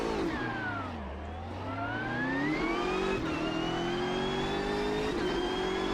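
A BMW M6 GT3 race car's engine in the Automobilista 2 racing game revs up loud and close, pitch dipping on a gear change and then climbing steadily as it accelerates through the gears.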